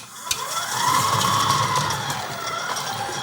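A KitchenAid stand mixer beats slightly firm butter, its motor whirring close by and rising then easing in pitch as the beater works, with a brief clack near the start and nobody talking.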